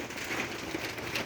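Rain falls steadily on a surface nearby, a soft even patter of drops with no pauses and no voices over it.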